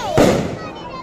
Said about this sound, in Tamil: நான் பட்டாசு வெடிக்கிறத பார்க்கலாம் பாருங்க.